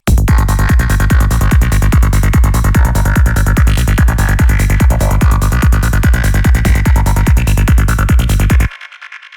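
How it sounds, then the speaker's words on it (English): A loud gated FM synth lead, made in the Vital synthesizer, chops rapidly in a fast, even rhythmic stutter, buzzy and bright, running for several seconds before cutting off into a short quiet tail. "which is essentially a gated lead, a gated FM lead or a saw"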